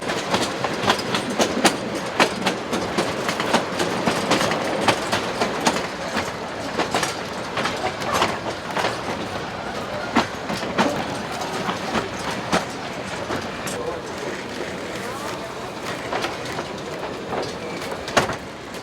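Le Mastrou, a narrow-gauge tourist train on the Vivarais railway between Tournon and Lamastre, rolls along steadily with continuous clickety-clack of wheels over rail joints and rumbling carriages, fairly close and loud throughout, with no voices.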